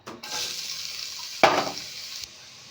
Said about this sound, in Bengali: এবারে আমি এর মধ্যে কুচিয়ে রাখা পেঁয়াজ দিয়ে দেব